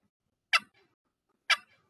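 Two soft, brief turkey clucks popped from a box call paddle, spaced about a second apart, close and quiet against silence.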